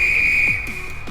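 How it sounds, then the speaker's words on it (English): A guard's whistle in a Roblox train game gives one long, steady, piercing shrill tone, loud and close, with brief chirps of other game sounds toward the end. "Blow your whistle."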